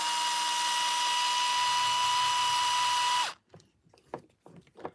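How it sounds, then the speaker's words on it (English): A cordless drill or power driver unscrewing parts of a 3D printed cantilever kit on a TRX4 RC truck, a steady loud whine for about three seconds that cuts off abruptly, followed by a few faint clicks and handling noises. "So we'll unscrew the top."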